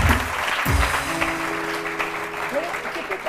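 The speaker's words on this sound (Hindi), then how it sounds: "बहुत सारी तालियां इरफान के लिए, बहुत सारी तालियां।" A studio audience at a TV morning show claps steadily, a dense, loud wash of applause with a voice speaking over it at the start.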